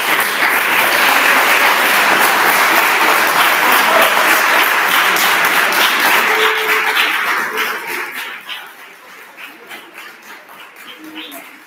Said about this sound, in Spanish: Y ahora yo quiero que os deis un aplauso